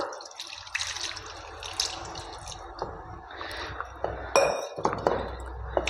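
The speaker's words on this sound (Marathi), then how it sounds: "यामध्ये पाणी टाकायचं." Water splashes and trickles into a metal pot of firmly kneaded dough in short bursts, with clinks of metal and a few drips, close by.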